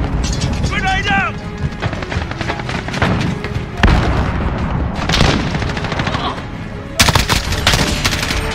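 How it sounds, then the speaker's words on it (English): Loud Call of Duty: Modern Warfare combat with an M4A1: sharp bursts of rapid gunfire and heavy blasts, including a grenade explosion, crowding the whole stretch, with voices shouting over the din. "Grenade out!"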